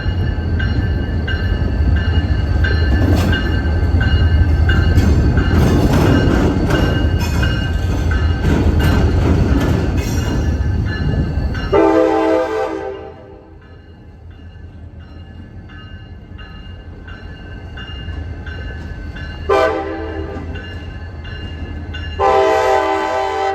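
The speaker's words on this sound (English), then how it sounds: "First up is locomotive 6523 going to bed as always, after finishing the local runs to Winter Haven" CSX locomotive 6523 rumbles past after its local runs to Winter Haven, a loud, close roar of engine and rolling wagons fading out, then several long blasts of its multi-tone horn.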